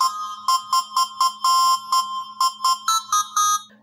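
A custom named SMS ringtone plays on a Xiaomi smartphone, a bright electronic melody of about a dozen short rhythmic tones with a steady low hum underneath, loud and close, with no talking.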